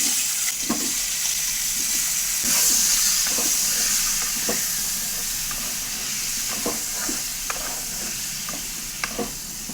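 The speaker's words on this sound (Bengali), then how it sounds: "এখানে আমি আলুটা আর চিকেনটা ভালো করে ভেজে নিচ্ছি" Potatoes and chicken pieces fry in hot oil with salt and turmeric, giving a steady, loud close sizzle with periodic scraping stirs throughout.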